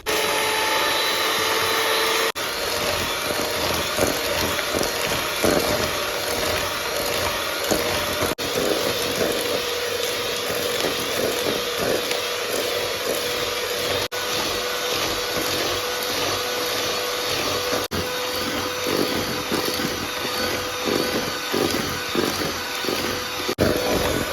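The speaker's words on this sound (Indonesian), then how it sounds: "Kemudian ini kita mixer. Untuk kecepatannya kita tingkatkan secara bertahap ya, sampai ke kecepatan yang paling tinggi." An electric mixer whirs continuously and loudly while beating black sticky rice cake batter for a cheesy steamed cake, holding a steady high-speed drone with slight fluctuations throughout.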